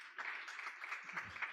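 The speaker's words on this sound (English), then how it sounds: "Give Pastor Dave a big hand clap." A church audience gives brief hand clapping for a pastor, a faint, scattered patter of applause heard at a distance.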